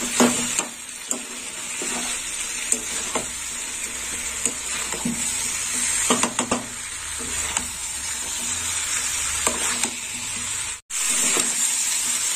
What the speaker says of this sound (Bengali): আলুটা দিয়েও একটু কষিয়ে নেব।